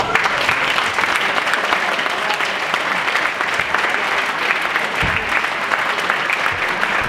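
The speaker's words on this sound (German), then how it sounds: "dafür habt ihr aus meiner Sicht alle einen großen Applaus verdient" A hall full of guests at the festive evening marking the volunteer fire brigade of Haina's 90th anniversary applauds with loud, dense, steady clapping that continues evenly throughout without any talking.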